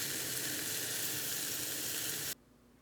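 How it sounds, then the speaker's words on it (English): Guinness burgers sizzling in a hot cast iron skillet, a steady loud sizzle that holds evenly for over two seconds and then cuts off abruptly to near silence. "This cast iron skillet has gotten nice and hot before we toss them on there"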